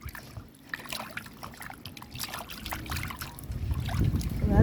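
Water splashes and sloshes as pigtail is rinsed by hand for Jamaican red peas soup, close and irregular, growing louder toward the end.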